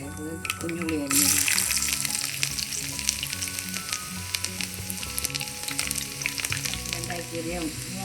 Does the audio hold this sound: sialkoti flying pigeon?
no